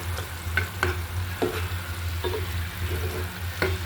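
Tomato pieces fry in spiced masala for a hilsa fish roe bhuna, a close continuous sizzle broken by repeated scraping stirs every half second or so.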